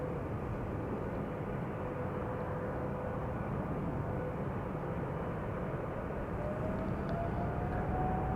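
A Finnair Airbus A350 passes overhead near Amsterdam Schiphol, its steady broadband jet roar holding evenly throughout with a faint rising whine toward the end.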